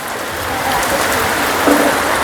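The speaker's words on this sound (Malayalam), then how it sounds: "മഴയുണ്ട് എന്നറിയാം" Steady rain patters continuously on a nearby surface, a dense, even hiss with no voices.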